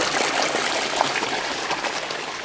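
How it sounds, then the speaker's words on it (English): Water pours steadily from a 6-inch inflow pipe supplying a backyard fish pond, a continuous close, broadband rushing and splashing with no pauses. "this is a 6-inch pipe and that's the inflow of my water supply"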